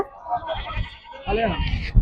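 Goats bleat nearby at a goat market in Nandigama, wavering, drawn-out cries one after another, over a low background rumble.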